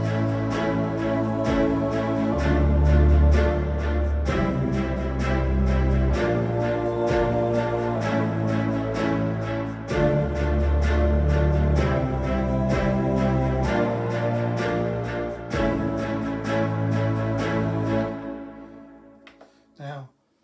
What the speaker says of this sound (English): we can start off with the choral backing, which is a choir soundtrack.